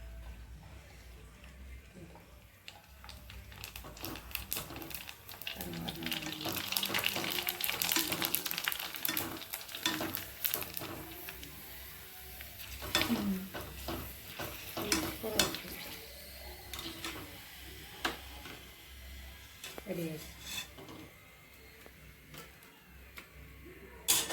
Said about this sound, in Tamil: எண்ணெய் பொரிச்சுக்கலாம்.